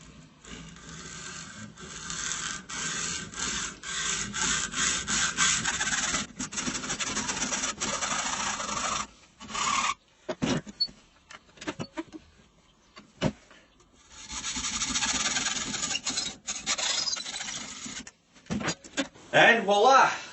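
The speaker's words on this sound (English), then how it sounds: "I've got myself a decent bloody hacksaw this time, with a decent hacksaw blade." A hacksaw cuts through metal tubing for a DR650 motorcycle prop stand, making close, rhythmic rasping strokes with short pauses between bursts and someone talking at times.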